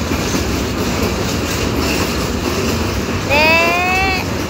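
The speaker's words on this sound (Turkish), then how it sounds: "Evet, şimdi diğer tren çıkacak." Steady rumbling train noise with clattering rail sounds, followed near the end by a rising, sustained horn-like whistle from the departing train at Ceyhan.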